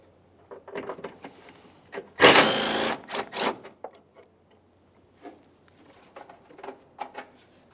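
A 13mm wrench works a mounting nut off the washer fluid reservoir of a 2002-2009 Chevrolet Trailblazer, making sparse, quiet metallic clicks and one brief louder clatter in a near, otherwise quiet space.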